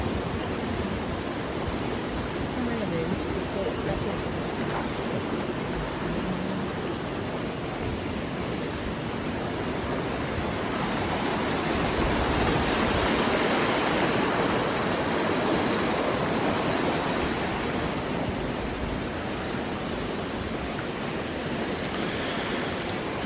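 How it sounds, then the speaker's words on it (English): Broadband steady roar of Yosemite Falls in Yosemite Valley during high spring water, a constant rushing wash heard alone throughout with no voices. "I think it's Yosemite Falls."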